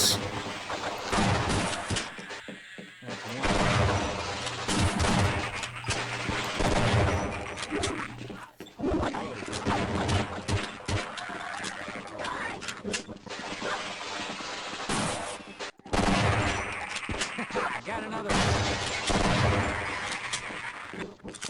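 Repeated loud shotgun blasts from a Spaz 12 in the game Half-Life, dense bursts of gunfire with brief gaps, close and dominant throughout.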